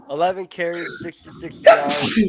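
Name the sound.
sneeze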